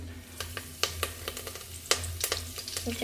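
Mustard seeds and curry leaves crackle in frying oil that is not fully hot yet, a close, steady sizzle broken by quick sharp pops.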